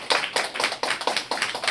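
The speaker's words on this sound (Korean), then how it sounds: "감사의 박수 한번 부탁드리겠습니다" Audience at a Gunsan local culture symposium gives a round of applause honoring a professor, heard as a few distinct rhythmic hand claps in quick succession, fairly close and clear.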